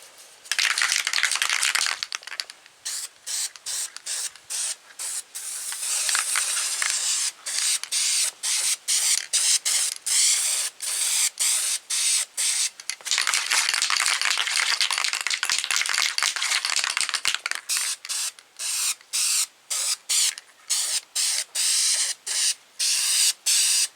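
Spray paint can hissing black high-heat paint onto a wood stove outdoors, long close bursts broken by many short gaps and quick stops, with no talking.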